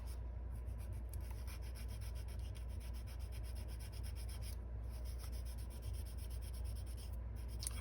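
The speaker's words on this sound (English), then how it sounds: "Just sand that line out of there, because it shouldn't be there." Steady sanding on a plastic part from a 1979 Oldsmobile 442 Daytona 500 model kit, smoothing out a seam line; a close, continuous rubbing scrape with a faint rhythmic back-and-forth, alone without talk.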